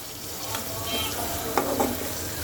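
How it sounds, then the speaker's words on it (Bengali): Onions fry in a pan with soft, continuous sizzling and a few stirring scrapes, fairly quiet and close, with no talk. "এবার পেঁয়াজটাকে সুন্দর করে ভেজে নেব"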